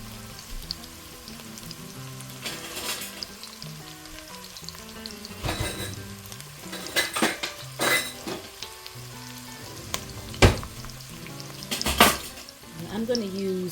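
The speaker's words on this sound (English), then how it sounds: "We're going to cook these onions down." Onions cooking down in an enamel-coated cast iron Dutch oven, a steady close sizzle with scraping stirs and spatula clinks, some louder bursts, and brief talk over it.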